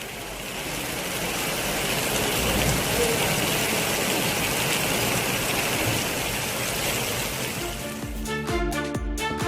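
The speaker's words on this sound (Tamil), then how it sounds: "திருவாரூர் மாவட்டத்தின் பல்வேறு பகுதிகளிலும் மழை பெய்தது." Steady moderate rain in Tiruvarur district, Tamil Nadu, a dense continuous hiss of drops on surfaces and ground, even and sustained, with a brief low rumbling at the very end.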